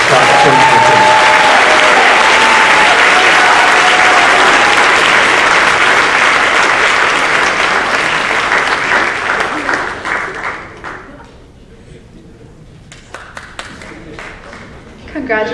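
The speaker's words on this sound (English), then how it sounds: "A round of applause to our senior members of class 2022." Sustained audience applause at a school world language awards night for the senior class of 2022, loud steady clapping that tapers off after about ten seconds, leaving a quieter room with a few scattered claps.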